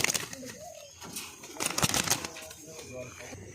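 Pigeons held in hand give soft low coos, close by, while someone talks over them.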